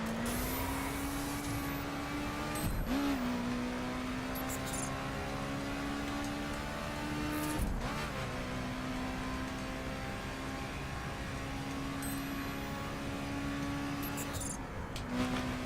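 All-wheel-drive car driving in the racing game The Crew Wild Run, a steady engine drone with shifting pitch and brief dips at gear changes, continuous and fairly loud throughout.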